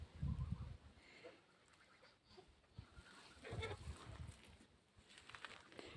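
Geese sheltering in the shade honk and cackle faintly in a few short bursts, with quiet outdoor ambience between the calls.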